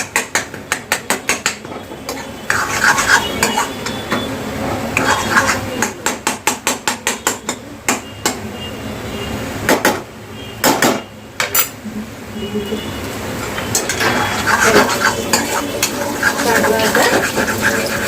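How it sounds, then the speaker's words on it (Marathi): Eggs and potato are mixed in a pan, with rapid runs of hard metallic taps and scrapes from the utensil striking the pan. Steadier scraping and frying noise fills the gaps between bursts. "चांगलं मिक्स करून घेऊया आपण अंडी आणि बटाटा"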